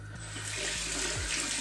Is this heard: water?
yes